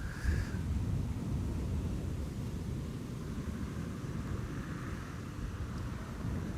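A KLM Boeing 737 at Amsterdam Schiphol Airport gives a steady, broad low roar that holds evenly throughout, with wind rumbling across the microphone and no voices.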